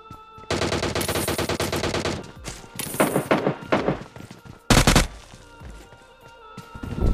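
Rapid automatic gunfire bursts from PUBG Mobile, loud and close, with several sustained strings of shots separated by short pauses and a sharp heavy burst near the end.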